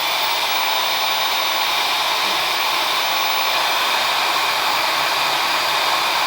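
A hair dryer fitted with an extendable-prong diffuser blows steadily while drying curly wavy hair, a loud, even, continuous whoosh close by with no speech.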